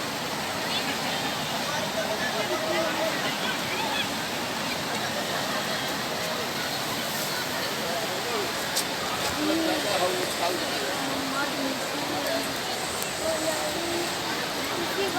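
Ganges river water rushing and flowing steadily at Haridwar, a broad continuous roar close by, with faint voices of people underneath.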